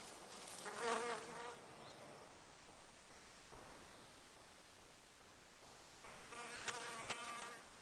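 A male wasp buzzing as it lifts away from an orchid, its faint wingbeat hum rising close by in two short bursts near the start and end, with a soft quiet stretch between.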